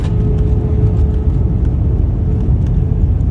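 British Airways Airbus A320-232 engines in idle reverse just after touchdown, heard from inside the cabin as a steady, loud low rumble and roar with no sharp braking surge.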